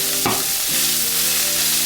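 Meat browning in a hot pan while being cooked for game-day food, with a steady close sizzle and a brief stir or scrape near the start, no talking.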